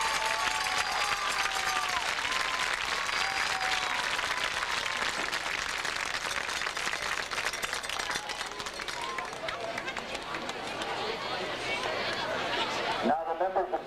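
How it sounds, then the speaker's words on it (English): A large crowd at a high school football game, Brownsville vs. Waynesburg, applauds the varsity football team with sustained, even clapping and chatter. The broad wash of applause holds steady, then thins abruptly at the end. "How about a nice round of applause for them?"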